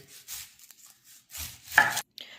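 A knife slits and chops food, likely tomato, on a cutting board in a kitchen for a Karnataka-style mutton dish, giving a few soft, spaced cuts with one sharper chop near the end.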